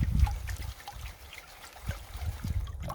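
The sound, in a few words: washing gravel in a gold pan with river water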